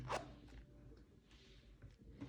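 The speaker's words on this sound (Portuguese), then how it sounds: "e vou abrir o meu zíper" A zipper is pulled open on a handmade crochet purse. It gives a quick, close rasp at the start, followed by softer handling rustles, and is faint and alone with no speech.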